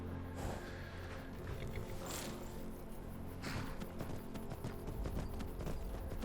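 Horse hooves clip-clop in a steady walking rhythm through a video game scene, the even thuds carried over a dense bed of game ambience.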